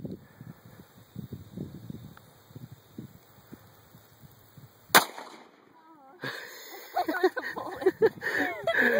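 Gunshot fired at a cantaloupe outdoors: one sharp, loud crack halfway through, followed by a second burst of noise, with quiet talk and rustling before the shot and voices after it.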